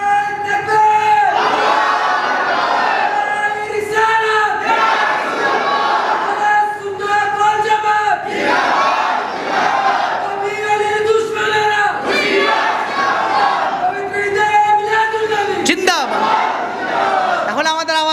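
A mosque congregation shouts a religious slogan in loud unison, led by a preacher at a gathering, with repeated rhythmic crowd chants that swell and fall close to the microphone.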